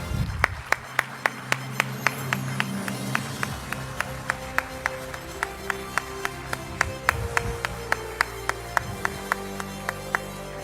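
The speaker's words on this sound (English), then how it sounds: "Shall we keep on applauding, ladies and gentlemen?" Rhythmic, evenly spaced clapping from an audience at a graduation ceremony, sharp loud claps beating in steady time over a hall background with a low sustained musical tone beneath.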